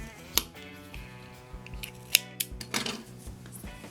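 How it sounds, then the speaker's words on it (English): Scissors snip through yarn during a crochet project, giving a few faint, close metallic clicks and soft cuts at irregular moments within a quiet room. "I am going to cut my yarn"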